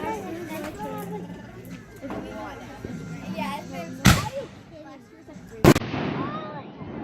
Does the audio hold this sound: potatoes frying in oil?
no